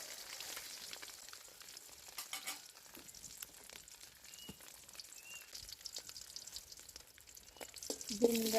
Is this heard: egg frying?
yes